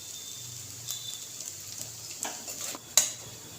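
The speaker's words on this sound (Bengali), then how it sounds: "যতক্ষণ না পনিরটা একটু নরম হয়ে যায় ততক্ষণ এভাবে নাড়াচাড়া করে দিচ্ছি।" A spoon stirs paneer filling in a pan, soft scraping strokes over a faint sizzle, ending in a sharper clink against the metal.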